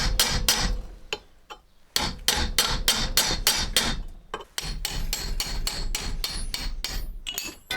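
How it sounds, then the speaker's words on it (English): A hammer strikes a metal spike piece being cut out for a replica hatchet, sharp ringing blows landing in quick, uneven bursts with short pauses between runs, loud and close. "Hammering out the piece."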